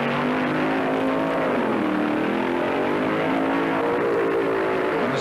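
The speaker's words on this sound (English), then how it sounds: "The burnouts are sensational." Drag-racing funny cars do burnouts at the 1975 IHRA Pro Am Nationals in Rockingham, North Carolina, giving a loud, unbroken engine roar whose pitch rises and falls throughout.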